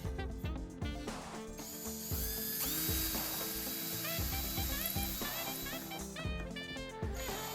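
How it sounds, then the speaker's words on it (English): A ratchet tool clicks rapidly in fast bursts to screw together the parts of a 3D-printed Staff of Ra prop, close and loud, with no talking. "So we'll just screw this together."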